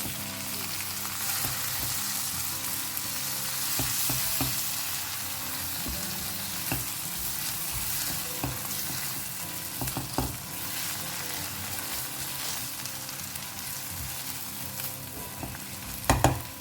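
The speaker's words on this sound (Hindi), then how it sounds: "फ्लेम यहाँ पे हाई रखिए और इसे अच्छे से मिक्स करें" Chopped tomatoes frying over a high flame for paneer tikka masala, a continuous close sizzle with repeated spoon scrapes and clinks against the pan, ending in a couple of sharper knocks.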